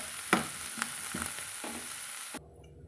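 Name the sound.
sautéing cassava masala with turmeric in a pan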